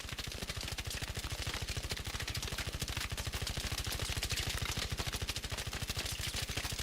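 An automatic weapon in the video game Arc Raiders fires a rapid, unbroken burst of evenly spaced shots for several seconds, crisp and up close with no talking.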